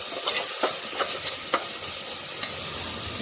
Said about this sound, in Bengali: মশলা এখন কিছুক্ষণ কষাবো।